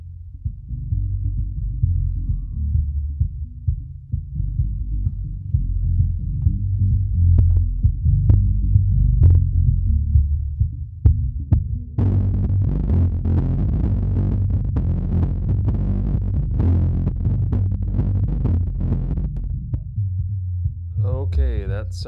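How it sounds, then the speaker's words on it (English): Music plays through an SC speaker under test, a low, steady bass-heavy throb that grows busier and more textured about halfway through, with no voices over it. "starting with just some music and taking a listen to the speaker"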